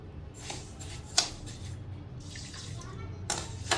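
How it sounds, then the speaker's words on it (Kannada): Water pours and splashes onto sugar in a pan in a few short bursts, just enough to cover it, with a faint clink, fairly quiet against a low background hum. "ಸಕ್ಕರೆ ಮುಳುಗುವಷ್ಟು ಮಾತ್ರ ನೀರು ಹಾಕೊಳ್ಬೇಕು"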